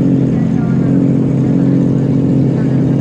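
A very loud Honda Civic exhaust at a Stancenation Japan car show roars continuously with a deep, raspy drone that holds steady and dominates everything around it.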